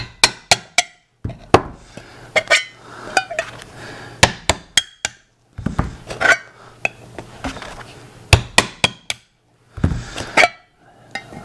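A hammer punches drainage holes into a tin can for planting, giving sharp, close metallic taps in quick clusters of several blows separated by short pauses.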